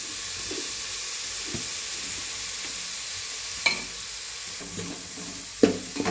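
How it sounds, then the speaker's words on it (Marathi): Red chili powder is stirred into coconut masala frying in a pan, giving a steady soft sizzle with a few scattered scraping and clinking knocks from the spoon. "लाल तिखट टाकून असं चांगलं मिक्स करून घ्यायचं बघा।"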